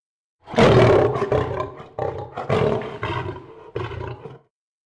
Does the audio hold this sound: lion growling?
yes